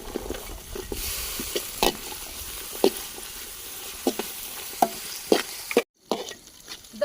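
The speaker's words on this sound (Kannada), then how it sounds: "ಹಸಿರು ಮೆಣಸಿನಕಾಯಿ ಹಾಕ್ತಾ ಇದ್ದೀನಿ ಇವಾಗ" Green chillies dropped into a hot pan with onion, ginger and garlic for mutton chops, frying with a steady sizzle while a spoon stirs and scrapes in repeated clinks, close and alone, with a brief cut near the end.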